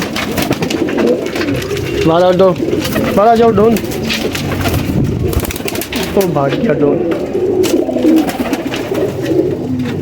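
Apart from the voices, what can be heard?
pigeons cooing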